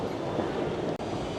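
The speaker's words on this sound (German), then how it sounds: "wo unser Metronom RE2 einfährt" A Metronom RE2 regional train rolling into Hannover station, a broad steady rumble of wheels and wagons close by, loud and continuous with a brief dropout near the end, no voices.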